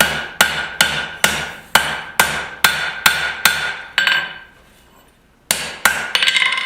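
A rounding hammer strikes hot steel being shaped into a garden cultivator, about a dozen sharp ringing blows in an even rhythm, with a brief pause before a few more hits, close and loud.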